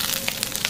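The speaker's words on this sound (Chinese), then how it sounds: "炸至金黄以后，加入葱姜八角，" Scallion, ginger and star anise stir-frying with browned pork belly in hot oil: a brief, steady close sizzle with a few soft stirring bursts.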